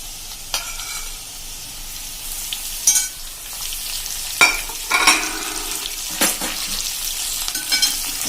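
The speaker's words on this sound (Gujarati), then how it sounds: "હવે એમાં આપણે આ કેપ્સિકમ જે સમાર્યા છે એ પણ આપણે નાખી દેશું" Chopped capsicum tossed into fried potato chips in a pan, with a gentle background sizzle broken by several loud scraping stirs and clatters of a spatula, close up.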